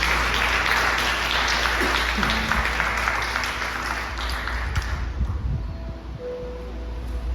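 Church congregation claps during a sermon, a full, sustained burst of applause that fades out after about five seconds, leaving a low hum of the hall.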